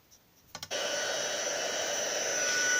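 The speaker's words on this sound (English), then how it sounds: "I'm just going to quickly warm up my heat gun and then blow this dry" An embossing heat gun clicks on and settles into a loud, steady whooshing blow while drying Versamark ink, preceded by a couple of brief switch clicks and quiet handling.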